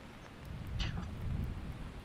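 Steady rain falling outdoors, heard as a continuous low hiss and patter picked up by a cheap microphone, with a faint thunder-like rumble underneath.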